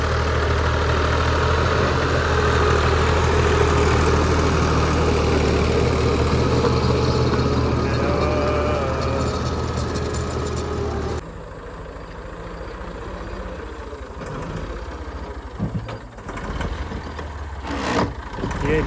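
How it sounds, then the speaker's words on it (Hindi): A farm tractor engine runs loud and steady at a low throb on a field, then drops to a quieter, rougher running with a few knocks and clatters. "ये जी इस ट्रैक्टर का आखिरी फेरा है"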